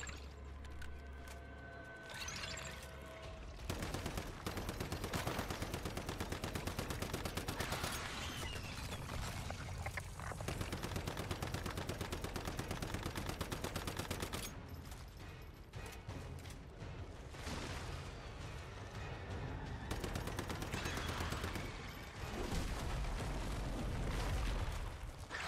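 Sustained, dense gunfire and explosive bursts fill a fight against a spider boss in the video game Once Human, loud and nearly continuous with brief lulls and mechanical clanks throughout.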